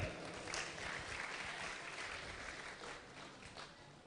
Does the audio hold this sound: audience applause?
yes